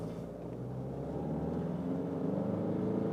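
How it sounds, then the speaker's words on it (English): A diesel Ford Mondeo pulls hard in second gear from 30 to 60, its engine droning steadily and rising slightly in pitch under a constant low rumble from inside the cabin. "Let's do second gear maybe from 30 to 60, then you can see how powerful the car is here now from the engine."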